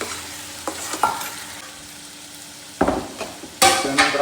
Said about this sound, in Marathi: या मसाल्याला जोपर्यंत चांगलं तेल सुटत नाही तोपर्यंत आपण एकदम परतून घेणार आहे